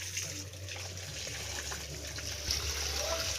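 Tap water runs steadily while fish is washed by hand, a close, continuous trickle and splash with faint background noise and a few brief spoken sounds.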